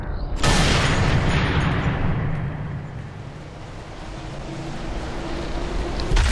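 A single sniper rifle shot cracks out in Sniper Elite 3 during an African mission, a sharp loud report followed by a long rolling echo that fades and then swells again.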